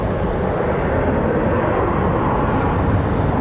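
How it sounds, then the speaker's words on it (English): A Southwest airliner touches down at Raleigh-Durham International Airport, heard as a steady, loud, broad jet roar that holds for the whole stretch with no voices. "Nice smoky touchdown there for Southwest."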